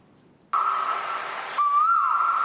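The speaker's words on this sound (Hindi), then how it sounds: "कौन सी आवाज है? कोयल है" A koel, a kind of cuckoo, calls loudly and close up: a sustained tonal whistle that starts abruptly, then shifts into a rising, bending note near the end, with no voices.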